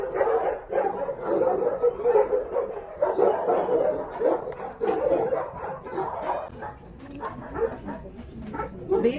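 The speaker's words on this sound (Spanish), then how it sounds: "Vean estos perritos aquí." Several dogs at an animal shelter bark and yip in repeated bursts, fairly close, with whimpers mixed in and brief talk underneath.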